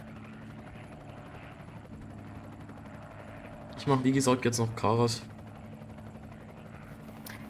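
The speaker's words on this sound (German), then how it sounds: "Ich stelle mal meinen Heli dahin" A video game helicopter's steady rotor drone hums in the background throughout, while someone speaks briefly in German over it.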